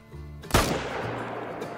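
Single loud rifle gunshot at a caiman in the hunting game theHunter: Call of the Wild, an abrupt crack after a quiet start, followed by a long rolling echo that slowly fades.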